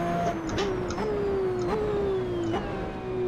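A race car braking very late on track, its engine note repeatedly dropping in stepped falling whines as it slows, fairly close and continuous with no talking.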